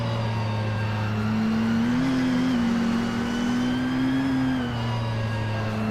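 Race car engines in a racing video game at the start of a race at Anadera Circuit, with a 2011 KTM Crossbow R on pole, making a steady, loud, droning roar with a slight rise and fall in pitch.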